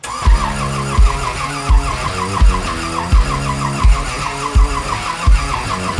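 An engine turning over on the starter with the throttle wide open after a stack fire, giving a steady, slow chugging of evenly spaced heavy pulses, loud and close, with no voices.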